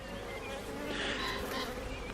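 Honey bees hum in a beehive, a close and dense buzz that holds steady and swells slightly in the middle. No voices are heard.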